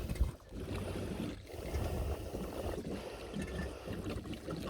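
Diesel fuel pours steadily into a heater tank, giving a continuous gurgling trickle of liquid, close and fairly even throughout with no talk.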